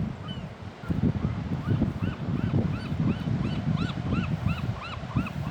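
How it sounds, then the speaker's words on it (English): Gull-like honking calls repeat over a steady low rumble of wind or surf on the coast, several cries rising and falling in quick succession at moderate distance. "Love the sound of the seagulls."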